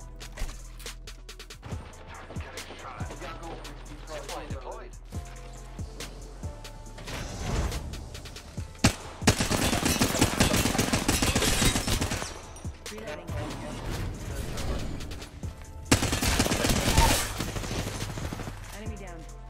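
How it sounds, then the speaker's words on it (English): A Flatline rifle fires in a shooter video game, with bursts of rapid automatic fire that come loud and close and alternate with quieter stretches of game music and effects. "Opening fire on the enemy."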